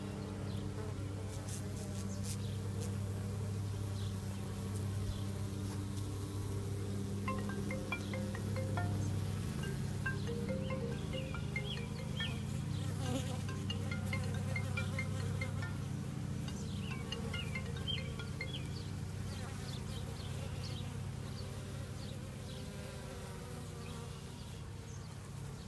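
Honey bees buzz continuously around an open beehive during an inspection, a dense, close, steady drone of many insects with small rustles and shifts, no talking.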